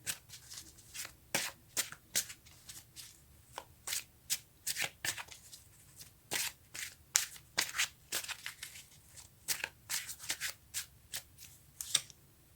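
A tarot deck is shuffled close up in quick, papery riffles and slaps, repeating in irregular bursts throughout with short pauses between them, fairly quiet overall.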